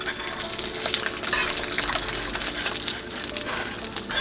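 An egg frying slowly in a cast iron pan, a continuous close crackling sizzle with dense fine pops, steady throughout.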